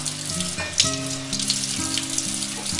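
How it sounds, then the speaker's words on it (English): Steady rush of running tap water as jumbo shrimp are rinsed under it in a home kitchen, a continuous close hiss with faint clinks, no talk. "you hold it under the running water"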